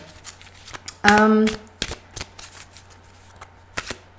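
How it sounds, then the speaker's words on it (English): A quick riffle of playing cards, a single bright burst lasting about half a second, with scattered soft handling clicks before and after. "I'm going to start to shuffle"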